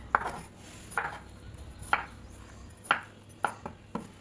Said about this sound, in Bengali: তোমরা যেভাবে ইচ্ছা কাটতে পারো, লম্বা করেও কাটতে পারো, কুচি করেও কাটতে পারো